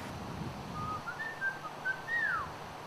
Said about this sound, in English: I whistle every time I feed them, and it's a certain whistle